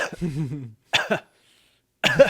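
A voice imitates a monster's phlegmy, drawn-out cough: a throaty rasping bout, a pause, then two shorter guttural hacks and another burst, close and dry with silence in between.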